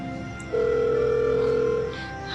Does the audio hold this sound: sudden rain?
no